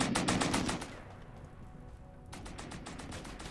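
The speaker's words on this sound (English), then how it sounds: "Okay, we got some firing back." Rapid automatic gunfire rattles in quick bursts in the Rimworld video game, a burst of repeated shots, a short lull, then another string of fire, moderately loud and without talk.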